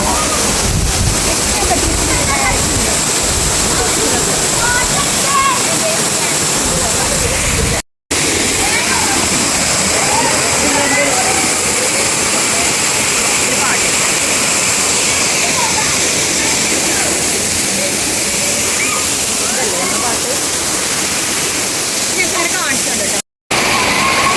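A forest waterfall roars in a steady, loud, broadband rush that is briefly broken twice, with a voice talking faintly over the falling water.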